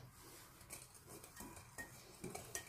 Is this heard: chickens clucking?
no